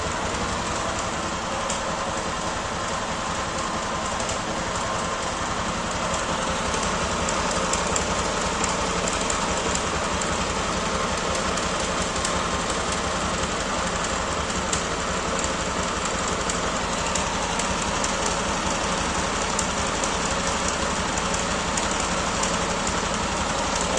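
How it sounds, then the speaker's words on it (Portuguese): A Honda Titan motorcycle engine, an auction bike left standing in a yard for years, runs steadily with its carburetor just serviced, a continuous close mechanical drone with an odd engine noise throughout and no talking. "algum barulho no motor ela tem"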